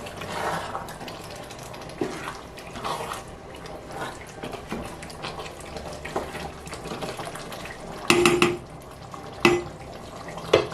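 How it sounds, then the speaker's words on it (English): A spoon stirring egusi soup in a metal pot, a soft continuous scraping and sloshing with a few sharper clinks of utensil against the pot near the end. "I'm just going to stir that in together"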